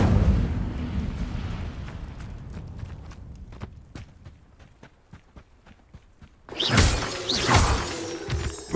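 Incendio fire spell cast in Hogwarts Legacy: after a low rumble and scattered clicks, a sudden loud crackling whoosh of flame bursts out near the end and sustains briefly with no talking.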